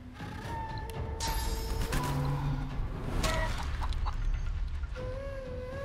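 A chicken clucks in the video game Divinity: Original Sin 2, with several short clucks scattered among game effects and chimes at moderate volume.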